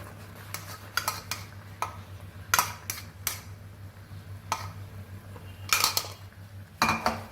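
Pork for Goan sorpotel is mixed in a pot, with a spoon clanking and scraping against metal in irregular bursts over a low steady hum, close by and without talk.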